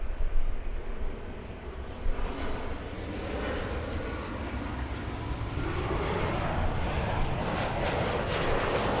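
A jet airplane roars at LAX airport, a loud broadband engine rumble that swells and holds steady as the aircraft passes close by, with no talk over it.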